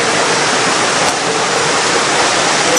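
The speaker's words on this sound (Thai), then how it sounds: "ดังนั้นสายน้ำที่นี่นะครับ ก็เอามา ก็จะหมุนต่อมาที่ใน ไหลผ่านมาที่ใน" Stream water rushing steadily to turn a water wheel at Taktsang temple in Bhutan, a loud, dense, unbroken roar of flowing water close by with no other sounds.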